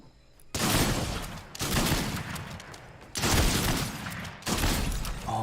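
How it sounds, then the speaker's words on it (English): Bursts of rapid gunfire in a video game battle royale match, coming in four loud volleys of sustained shooting separated by brief pauses, with no talking. "Someone's shooting."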